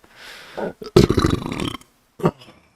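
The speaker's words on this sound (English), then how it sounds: "let's also release a burp, probably" A loud, drawn-out burp from a person playing a modded Minecraft session, rumbling in several bursts for about a second, followed by a shorter second belch after a pause.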